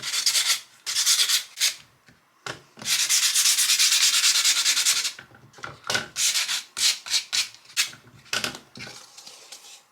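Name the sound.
sanding a Dollar Tree decoration with sandpaper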